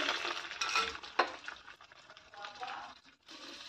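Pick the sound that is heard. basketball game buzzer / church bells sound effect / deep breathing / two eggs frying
two eggs frying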